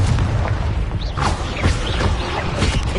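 Confringo blasting spell explosions in the video game Hogwarts Legacy, a steady run of booming, crackling bursts with several sharp impacts close together over a dense rumbling game soundscape.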